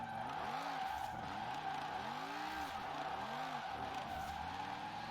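Video game car tires squeal and skid in long, wavering arcs over a steady engine drone, a Formula Drift car on drag slicks in the rain in Forza Horizon 4, the screeches repeating throughout a drifting run.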